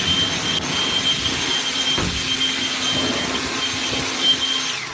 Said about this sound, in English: It's a steel blower, but I wouldn't want to get any stuff on you.